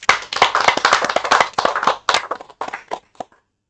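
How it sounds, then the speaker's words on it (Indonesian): Audience clapping at a gathering, a dense burst of hand claps right up close that thins into scattered last claps and stops. "Mari kita tepuk tangan."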